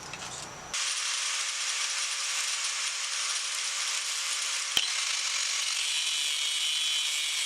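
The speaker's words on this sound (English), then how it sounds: "Now I've got to cut some of this tubing off to fit the collar" A length of metal tubing for a chopper motorcycle build is cut with a steady, continuous grinding rasp that starts abruptly and holds loud and close, with one sharp click partway through.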